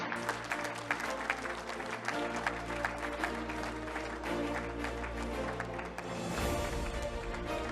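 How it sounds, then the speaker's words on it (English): Sustained applause from a large crowd at a sports awards ceremony, steady dense clapping that swells slightly toward the end. "A round of applause for Anthony Cox."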